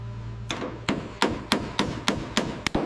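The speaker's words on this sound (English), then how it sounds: "Listen to the rhythm of the hammer." A hammer reshapes bare body metal on an Aston Martin Vanquish under restoration: about eight sharp, ringing metallic blows land close and loud in a steady, even rhythm, with no voices.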